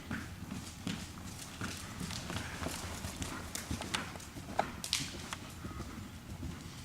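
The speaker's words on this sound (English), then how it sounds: "go ahead and do a little canter" A horse canters during a riding clinic session, its hoofbeats falling in a steady rolling clip-clop rhythm close by, with arena noise around it.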